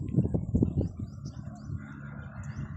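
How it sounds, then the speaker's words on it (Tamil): Many birds, including migratory ones, gathered in a tree, giving a cluster of coos and chirps at moderate distance, fading to a quieter outdoor hum. "இங்கே பாருங்கள், இந்த மரத்தில் எல்லாம் நிறைய பறவைகள் இருக்குது"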